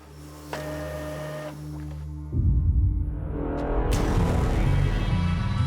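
A hospital printer runs close by, with a low motor hum and rhythmic mechanical feed noise building louder as pages print, and no voices over it.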